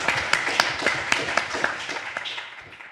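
Scattered applause from an audience at a live startup pitch event, distinct individual claps forming a loose rhythm that thins out and fades over a few seconds.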